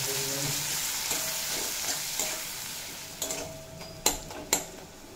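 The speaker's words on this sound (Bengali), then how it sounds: "দিয়ে পেঁয়াজ খুব ভালোভাবে ভেজে নেব।" Chopped onions fry in a pan for a mutton and potato curry, a steady close sizzle with stirring scrapes running throughout and a few sharp utensil knocks near the end.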